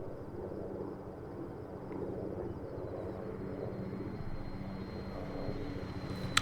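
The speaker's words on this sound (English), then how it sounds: "Helicopter is coming in." A helicopter approaching in the military video game Arma 3, a steady rhythmic rotor thrum and engine drone that holds throughout at moderate loudness with no voices.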